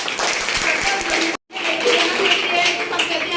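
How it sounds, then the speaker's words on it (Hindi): An audience at a student event gives loud, dense applause, clapping close up and filling the room. It breaks off for a moment and then resumes as strongly. "जोरदार तालियां"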